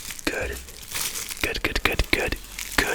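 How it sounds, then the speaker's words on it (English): German chocolate wrapping papers crinkle in sharp, close bursts, crackling on and off with short pauses between handfuls, soft breathy talk at the start. "You hear the crinkling already, right? So those are the wrapping papers."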